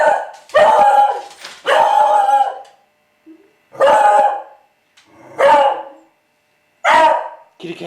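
A dog barks in several loud, drawn-out bursts separated by short pauses, close to the listener.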